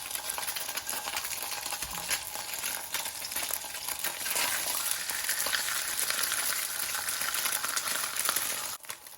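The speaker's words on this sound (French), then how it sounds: "Comme vous pouvez voir, mon poisson cuit direct." Sea bream fish frying in a smoking-hot pan, a loud, crackling sizzle that runs continuously and intensifies midway before a brief dip at the end.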